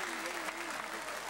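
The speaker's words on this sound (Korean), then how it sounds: "축하의 박수를 좀 쳐주세요." Studio audience on a live Korean TV family-reunion broadcast applauds, a steady, fairly distant wash of clapping with a faint voice underneath.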